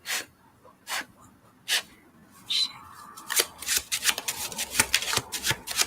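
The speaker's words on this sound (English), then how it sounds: "I'm just going to shuffle really quickly and then split the deck." A deck of cards shuffled quickly up close, starting with a few separate short riffling bursts, then a dense run of rapid papery flutters and snaps.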